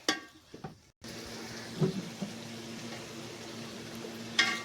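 Boiled chickpeas are stir-fried with masala in a pot, giving a low, steady sizzle with a few soft clunks and scrapes of stirring and a brief gap near the start.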